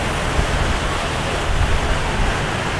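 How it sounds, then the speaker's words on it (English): Waterfall at a theme park pours in a loud, steady roar of rushing water, a broad continuous hiss with low rumble heard up close and alone. "I'm right here by myself watching a waterfall."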